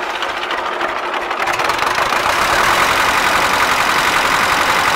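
A tractor engine idles close by, a loud, steady chugging rumble that continues without a break, from a second tractor fitted with a pump, beside an MTZ-82 with a failed fuel pump.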